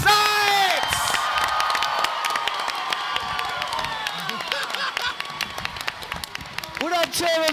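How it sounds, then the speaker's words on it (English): Large convention crowd at a Comic-Con panel for Teenage Mutant Ninja Turtles cheering, whooping and clapping loudly, a dense roar with shrill shouts that holds for several seconds and then thins out. "Give it up for Michelangelo Greg Sykes!"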